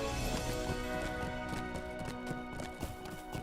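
A horse gallops in the online game Lord of the Rings Online (LOTRO), its hooves clip-clopping in a quick, steady rhythm that carries close and even through the whole stretch.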